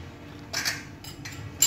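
A spoon stirs fried chicken and almonds in a pan over medium-low flame, scraping and clinking against the metal in a few short strokes over a low background sizzle, close by.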